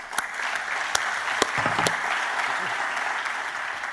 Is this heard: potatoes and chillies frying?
no